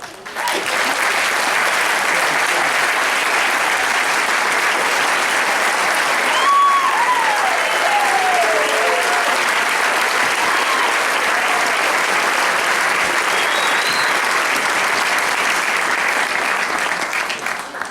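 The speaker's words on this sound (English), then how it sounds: "please rise so we can give you a round of applause as well" Sustained applause from a large crowd at a graduation ceremony, steady and even throughout, with a brief whistle rising above the clapping.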